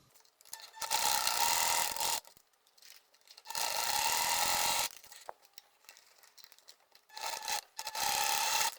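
A sewing machine stitches the fabric lining and body of a nécessaire box in three bursts of steady, close running, with short quiet pauses between them.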